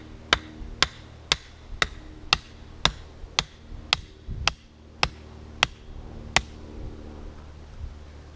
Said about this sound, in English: I got my trusty hammer, now let's pound this in.